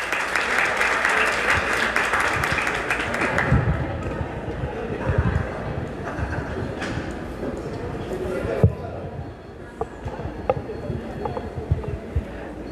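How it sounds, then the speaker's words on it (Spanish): Strong applause welcoming a trainer at a human rights training session, dense clapping that gradually thins into scattered claps and thumps as people settle. "Con un fuerte aplauso recibimos a nuestro capacitador de esta tarde."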